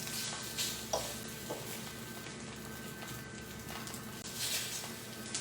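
Battered eggplant slices frying in a pan, a continuous close crackling sizzle with small pops and soft spatter bursts, moderately loud and steady throughout, with no speech.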